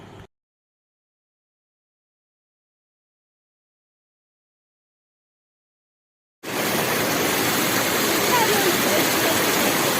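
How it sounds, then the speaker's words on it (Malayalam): Oliyathu Para waterfall near Mudavannoor, water running over rocks in a stream, sets in abruptly as a loud, steady broadband rush that continues without break after a long stretch of silence. "മുടവന്നൂർ പാടശേഖരങ്ങളിലെ വെള്ളം തോട്ടിലൂടെ ഒഴുകി വന്ന് ഈ പാറക്കെട്ടുകളിലൂടെ അരുവിയായിട്ട്"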